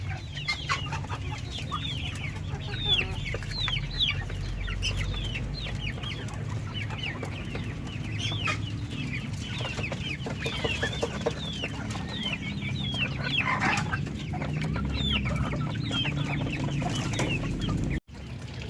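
A flock of native Darag chickens eats saresa fruit, keeping up a continuous chorus of nearby clucking over a steady low background rumble.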